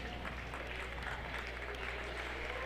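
Applause rises from the crowd at a high school girls' basketball game, a steady, moderately loud patter of clapping filling the gym throughout.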